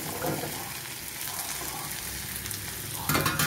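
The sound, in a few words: frying tomatoes and potatoes in a pan, stirring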